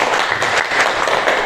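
A university class audience claps together in a short, loud burst of steady applause close by.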